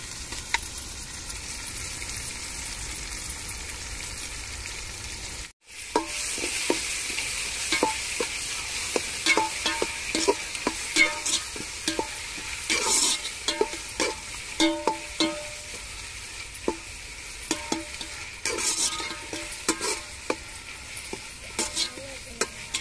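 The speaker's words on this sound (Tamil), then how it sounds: "இப்போ தயிர் சேர்த்துக்கிடுவோம்." Yogurt is stirred into frying masala for fish biryani, a steady sizzle broken by a brief gap, then repeated scraping and clattering stirs over the hiss.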